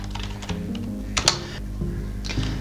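Light tapping on a computer keyboard as a short phrase is typed, a quick uneven run of soft clicks with a couple of louder key strikes, close and quiet with no voices.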